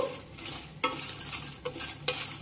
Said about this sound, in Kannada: ಇಲ್ಲಿ ನಾನು ಬ್ಯಾಡಗಿ ಮೆಣಸಿನ್ಕಾಯಿ ತೊಗೊಂಡೇನು, ಅವತ್ತನ್ನ ಹಾಕ್ತೇನೆ.